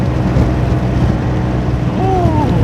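A Honda Forza 350 scooter accelerates at speed toward 120 km/h, giving a steady loud engine and wind roar throughout with strong rushing wind noise over the microphone.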